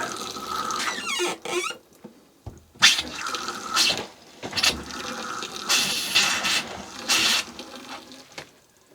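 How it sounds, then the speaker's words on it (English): A tap on a Cougar fifth wheel trailer is opened so that RV antifreeze sputters and gushes out in irregular bursts. Spits and splashes come close and loud, broken by short gaps, and the sound ends in a trickle. "I actually have to turn on the tap and get some antifreeze out"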